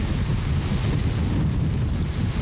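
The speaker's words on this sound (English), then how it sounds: "You can hardly stand up in that gust." Hurricane Katrina's landfall brings a powerful, continuous wind gust that buffets the microphone with a loud, unbroken roar. Nobody speaks over it.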